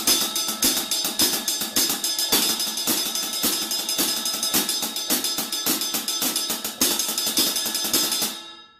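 A drum kit is played with a double kick pedal: single strokes run in triplets and then 16th notes under cymbal hits. The pattern is loud, fast and steady for about eight seconds, then stops abruptly.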